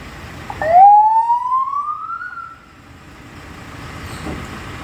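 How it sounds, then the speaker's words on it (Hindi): A single vehicle siren whoops upward in a long rising wail, loud at first then fading out, followed by low ambient rumble. "सायरन ऑन करो।"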